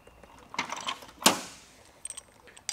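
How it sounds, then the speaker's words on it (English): A ball swivel on a chemical sprayer hose turns, giving a few soft mechanical creaks and clicks, then one sharper click-and-scrape that dies away, with faint ticks after it. "So you see, this is the part that I like, the swivel. It's got a ball swivel."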